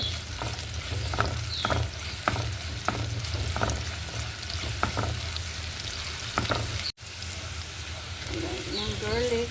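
Garlic sizzling in a pan with steady crackle, punctuated by regular spatula stirring knocks; a brief cut partway through, then a voice talks over the frying.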